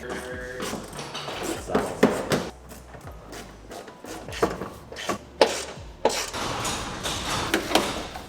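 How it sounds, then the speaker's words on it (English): Torx bits turning fasteners as the belly pan comes off an Audi RS3 underbody, with irregular close scraping, rasping ratchet sounds and sharp clicks and taps throughout. "Taking out the belly pan with the Torx bits here."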